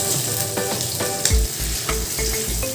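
Onions and chilies frying in hot oil left over from frying eggs, a loud close sizzle with spoon scrapes and low thumps against the pan, no voices.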